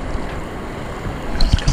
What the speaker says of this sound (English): Going through those rapids.